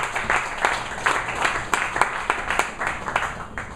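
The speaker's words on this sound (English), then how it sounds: "A big round of applause for Alisha." Applause at a Toastmasters-style club meeting after a speaker, a modest group clapping close by with distinct individual claps audible in an uneven, lively rhythm that swells and eases.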